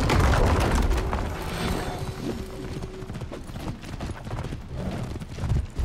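Horse hooves gallop in a rhythmic clip-clop during a Viking campaign in For Honor, mixed with low booms and clanking, moderately loud throughout.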